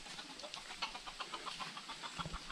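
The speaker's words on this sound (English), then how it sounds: "See all these chickens in the background there as well?" Chickens clucking and chattering in the background at an abandoned resort on Koh Tao, with many short, scattered calls at middle distance over a quiet outdoor ambience.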